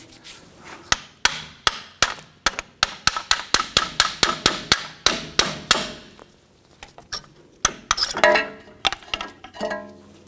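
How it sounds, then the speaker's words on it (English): A hammer strikes a brake caliper on a 1997-2006 Jeep Wrangler to knock the old brake pads loose: a rapid run of sharp, close metallic bonks in an uneven rhythm, with a few scraping clinks near the end. "Sometimes you can give these a bonk with the hammer."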